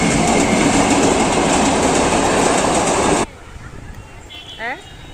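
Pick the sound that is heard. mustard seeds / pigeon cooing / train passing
train passing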